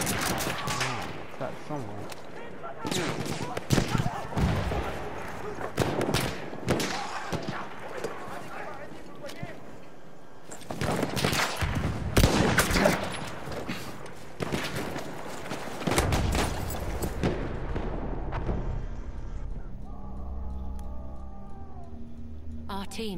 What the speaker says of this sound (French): Mitrailleuse ennemie, par là!